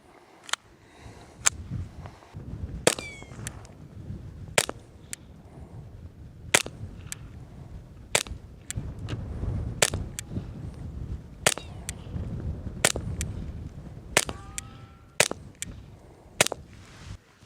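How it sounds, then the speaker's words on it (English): Handgun rounds are fired at an outdoor range during budget practice, a long string of sharp, loud, close reports at a steady moderate pace of roughly one per second. A low rumble of wind or movement fills the gaps between shots. "I'm just gonna start shooting rounds and try and make some improvement"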